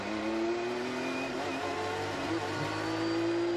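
Formula 1 car pulling away during Bahrain pre-season testing, a steady mid-pitched engine note that holds fairly level rather than climbing, heard at moderate distance without speech.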